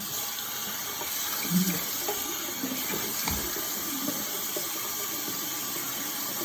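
A tap runs steadily with a broad, hissing flow of water, moderately close, with a few small clinks and bumps around it.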